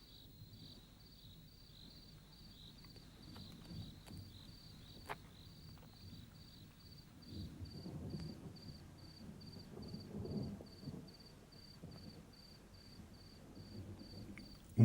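Thunderstorm with rain in the Karoo: low rumbling thunder swells and fades across the scene while a steady, faint insect or cricket chirp pulses throughout, with soft rain in the background.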